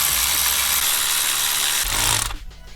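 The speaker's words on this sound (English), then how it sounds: "We're just gonna go ahead and put these bolts right in" A ratcheting tool clicks rapidly and steadily as bolts are driven in while a shifter is installed in a 300ZX, close up and fairly loud, then stopping abruptly and leaving a quiet room.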